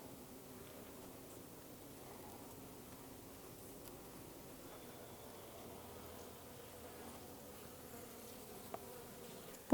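Honeybees buzz steadily around an open beehive while frames are being worked, a dense, continuous hum that stays even throughout with no voices.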